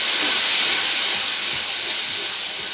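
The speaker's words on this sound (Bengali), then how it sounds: "এরপরে টমেটো পিউরিটাকে ততক্ষণ পর্যন্ত ভেজে নেব যতক্ষণে না টমেটোর কাঁচা গন্ধটা চলে যাচ্ছে" Tomato puree frying with garlic in hot oil for a fish curry, giving a steady, loud, continuous hiss that holds evenly from start to finish with no voices.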